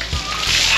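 A bucket of water is thrown over a person outdoors, landing in one loud, close splash and spatter that sloshes on for the rest of the moment, with a voice faintly audible.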